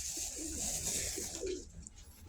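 Soft pigeon coos drift in a low, rounded rhythm against a steady outdoor hiss, with a few faint chirps mixed in.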